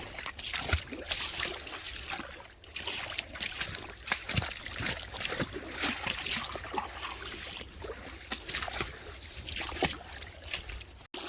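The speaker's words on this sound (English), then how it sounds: "Found a little waterfall area." A small waterfall trickles over slippery, algae-covered rocks in a wooded wildlife management area in South Carolina, a continuous close splashing and sloshing wash with occasional sharper splats.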